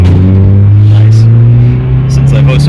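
A Ford Aspire accelerates from a standstill toward 60 with its throttle cable freshly tightened. The engine drone is loud, close and steady, rising gradually in pitch, and a voice speaks briefly over it.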